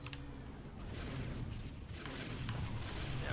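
Rapid bursts of grenade explosions in Star Wars Galaxies, a dense run of sharp blasts and booming crackle building to a sustained loud barrage, no talk.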